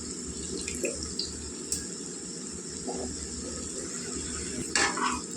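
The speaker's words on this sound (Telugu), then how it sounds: "ఇప్పుడైతే చింతపండు పులుసు చిన్న నిమ్మకాయ ఇంకా నానబెట్టుకున్నానండి. వేసుకుందాం." Soaked tamarind juice pours steadily into a spiced tomato egg curry, a continuous close watery stream with a few brief splashes and no voices.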